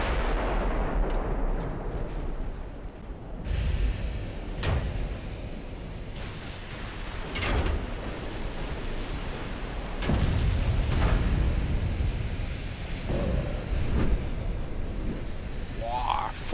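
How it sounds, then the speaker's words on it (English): Battleship guns fire in the naval video game Ultimate Admiral Dreadnoughts: a series of heavy booms at irregular intervals over a constant roar of sea and battle noise, with a voice speaking at times. "All the ships anyway should fire at this one."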